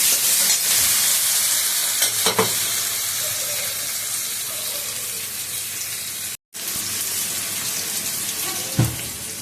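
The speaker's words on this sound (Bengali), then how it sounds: "দুটো একটু লাল লাল করে ভেজে নেব" Potatoes frying in a pan give a soft, continuous sizzle with a few clattering stirs, fairly quiet and close, with no voices.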